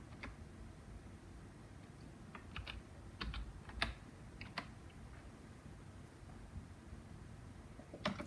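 Soft typing on a computer keyboard, a scattered run of quiet key taps with a small cluster in the middle, over low background hum.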